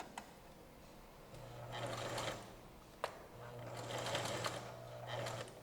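A sewing machine stitches cushion fabric in two steady runs of motor hum, each opening with a sharp click from the handwheel or needle, fairly close and with no voices.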